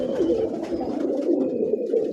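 Pigeons at a pigeon show cooing steadily and close by, a dense, continuous murmur of soft throaty calls with no pauses.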